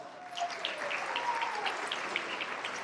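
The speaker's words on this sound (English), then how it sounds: "Yes, round of applause." An audience claps in applause, a dense, even patter of many hands held at moderate level throughout, with a faint sustained tone sliding underneath.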